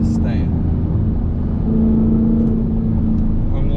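Supercharged Dodge Hellcat accelerating, a loud in-cabin engine roar with a steady drone that rises slightly midway, with brief speech over it near the start.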